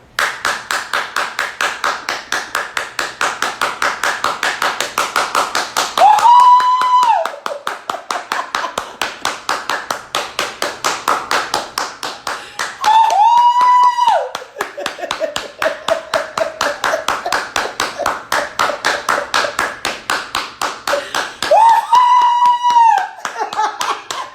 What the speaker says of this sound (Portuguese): Vocês vão aplaudir vocês. Eu vou aplaudir a mim.